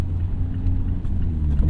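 A Mazda ND3 Miata rumbles steadily at low revs while driving on a snowy, freshly plowed road, a continuous close engine and road drone with no talk.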